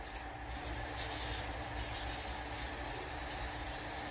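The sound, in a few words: cooking spray on silicone donut pans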